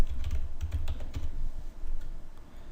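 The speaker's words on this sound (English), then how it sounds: "We'll type in the name" Computer keyboard typing while entering text into a WordPress plugin form, a quick run of close, crisp key clicks with low thumps, steady and unaccompanied by any voice.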